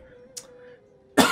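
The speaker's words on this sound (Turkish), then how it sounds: "özür diliyorum ya öksürükten" A single sharp cough from a man playing the strategy game Total War: Rome 2, near and abrupt at the end after a quiet stretch with a low steady hum.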